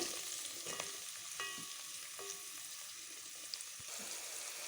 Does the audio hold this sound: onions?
yes